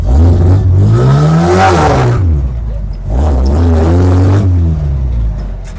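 Engine of an old Volkswagen that had sat unused for five years and reportedly lacks pickup, revving loud and close in two rising and falling surges with a brief dip between them.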